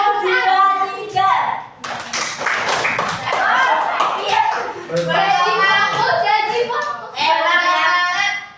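A classroom of students claps out the rhythmic Indonesian clap game tepuk janji fokus, a dense burst of brisk, loud hand claps mixed with voices chanting, with talk before and after.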